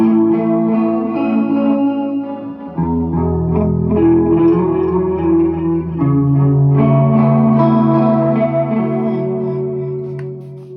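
Electric guitar chords ring out through delay and chorus effect pedals, notes smearing and repeating into a wide wash, loud and close.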